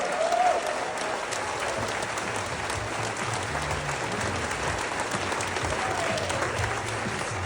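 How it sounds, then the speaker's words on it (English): A crowd at a labor rally in St. Louis County gives a big round of applause, a sustained roar of clapping with cheering voices and shouts running continuously through the room. "Let's give them all a big round of applause,"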